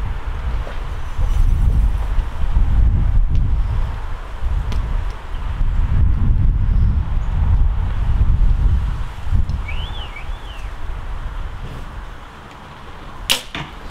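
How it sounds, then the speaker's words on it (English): Low, blustery wind buffets the microphone outdoors at an archery range in rolling gusts, with a brief sharp knock near the end. "It is a little bit windy."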